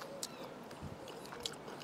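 Two quick, crisp crunches of someone biting into crispy salt and pepper duck skin, close and quiet, with soft chewing between them.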